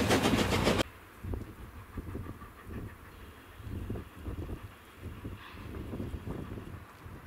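A narrow-gauge steam train passes, its locomotive pulling open wagons, one loaded with extra coal; distant rumble and clickety-clack of the wheels come through steady wind noise on the microphone, after a short loud burst at the start.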